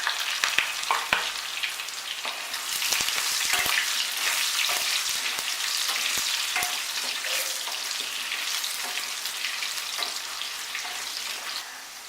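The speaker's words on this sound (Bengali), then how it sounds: "এবার আমি এর মধ্যে আলুগুলো ভেজে নেব।" Potatoes fry in mustard oil in a wok for prawn and cabbage curry, a steady dense sizzle with occasional louder crackles and stirring clinks, close and continuous with no talk.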